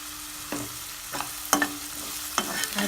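Onion, green chili and curry leaves sautéed in a pan for green peas masala, with a faint sizzle and a few distinct stirring scrapes spaced about a second apart, quiet and close with no talk.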